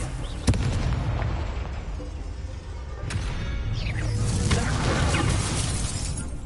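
Incendio fire spell cast in Hogwarts Legacy, a sharp crackling burst followed by whooshing, rumbling flames and impact booms, close and loud with no talking.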